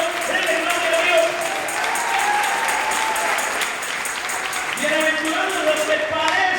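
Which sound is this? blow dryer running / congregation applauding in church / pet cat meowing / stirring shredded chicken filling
congregation applauding in church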